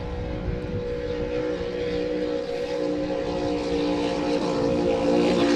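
The Hancock Claims offshore racing powerboat at the 7-Mile Offshore Grand Prix in Marathon, Florida, gives off a steady, throbbing engine drone that holds close and loud for several seconds and swells slightly at the end. No voices are heard.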